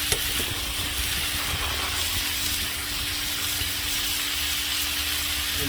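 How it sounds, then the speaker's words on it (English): Onions and peppers fry in ghee for Hawaiian chicken fried rice, a steady close sizzle with a constant hum underneath, loud and unbroken throughout. "add a little ghee. Add our onions and peppers."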